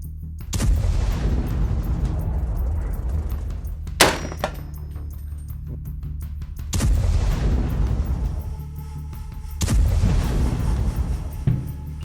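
Three loud M14 rifle shots ring out several seconds apart at a shooting range with gong targets, each a sharp crack followed by a long rolling echo, with a quieter thump in between.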